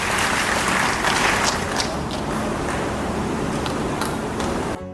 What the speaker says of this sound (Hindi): जोरदार ताली एक बार और बजाकर